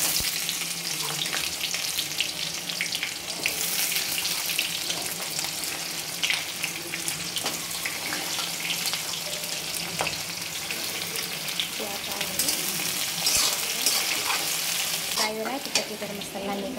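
Onions and cumin seeds fry in hot oil in a pan for home cooking, a steady close crackling sizzle with occasional stirring and scraping throughout, no voices.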